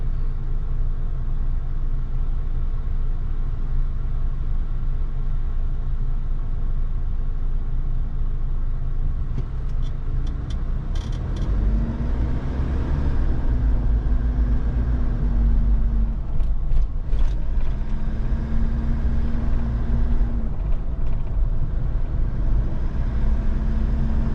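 A Hyundai Porter 2 diesel truck engine idles close by with a steady, low rumble, rising into a louder drone with a mid-pitched whine as it revs twice.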